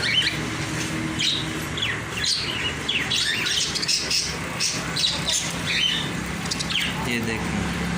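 Large-breed parrots chirp and squawk in a busy run of sharp calls over a continuous background hum, several birds overlapping near the microphone.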